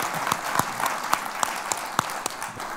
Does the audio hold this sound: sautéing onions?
no